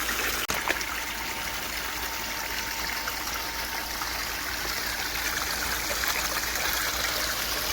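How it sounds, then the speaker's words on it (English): Water rushes steadily through a gold sluice box, washing over riffles loaded with bagged hardware-store sand, a continuous close hiss and trickle with one brief knock near the start. "erodes that away down the sluice. My water's looking pretty good here"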